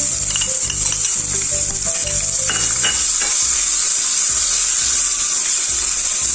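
Ajwain and garlic roasting in a pan over a low flame, a continuous close sizzle with light scraping and stirring taps, no talk.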